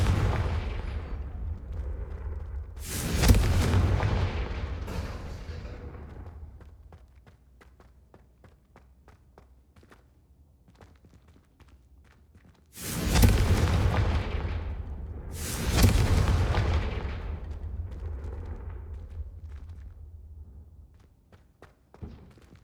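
Confringo blasting spells in Hogwarts Legacy go off as three loud booming explosions, one alone and then two close together, each rumbling and fading into quiet between them.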